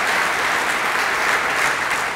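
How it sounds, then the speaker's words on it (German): Loud, dense applause from a large crowd, sustained and even throughout with no break. "Nochmal Applaus in Richtung Kaiserslautern an dieser Stelle."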